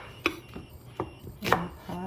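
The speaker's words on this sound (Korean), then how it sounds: "양파 싹싹 썰어서 넣어주면 되고요." A knife chops onions on a cutting board in a home kitchen, with a few sharp, separate knocks at uneven intervals, close and fairly quiet.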